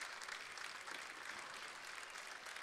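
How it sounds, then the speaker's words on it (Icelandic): Crowd at a girls' under-16 basketball game between Keflavík and Grindavík applauding an injured player, a steady, faint patter of clapping filling the whole stretch. "Klappa fyrir henni."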